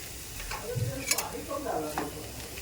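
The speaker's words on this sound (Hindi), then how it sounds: "और इसे अच्छी तरह से हम भून लेंगे" Bathua greens with spices roasting in a pan, a soft sizzle with a few spatula scrapes and stirs, moderately quiet, with faint voice-like sounds in the background.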